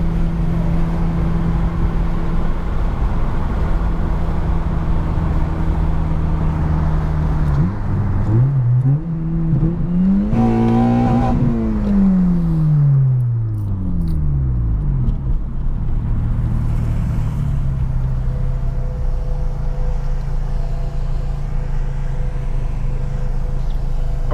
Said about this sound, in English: There's a lot of wind coming in this car right now.